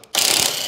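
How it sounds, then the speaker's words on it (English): A ratchet clicks as it loosens the anti-roll bar drop link on a VW Passat R36. Close-up, it gives a short, loud metallic rattle of rapid clicks right after a brief quiet start. "we'll loosen the anti-roll bar like before"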